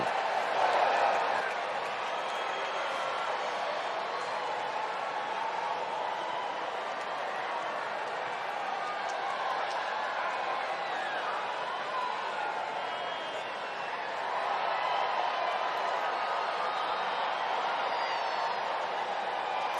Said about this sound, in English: Crowd with the wave and some noise being made here at Busch Stadium